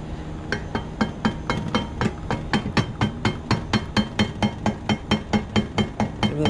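Steady, rhythmic metal hammer strikes on a Baldor electric motor bearing ring out one after another, about four per second, sharp and close with no talking.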